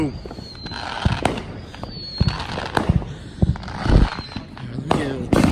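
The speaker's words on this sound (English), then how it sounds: "Crazy fireworks again." Fourth of July fireworks bursting around a house, a rapid series of loud sharp bangs and crackles spread over several seconds, with a person's voice heard between blasts.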